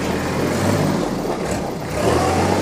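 A 2013 Kubota L3800D tractor engine runs loud and steady up close as it is shifted into high range, its drone dipping briefly and then swelling again.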